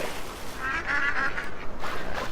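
Cartoon ducks in a farming video game quack in a quick run of nasal calls, moderately loud and alone over a soft background.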